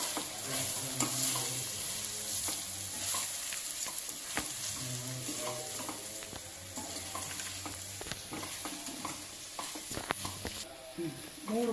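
Rice stir-fried in a pan for fenugreek-leaf pulao, a steady close sizzle and frying hiss with repeated scraping stirs of the spoon throughout.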